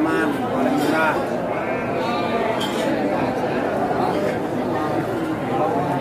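Garut sheep bleat at a busy livestock market, their calls rising over constant crowd chatter and people talking nearby.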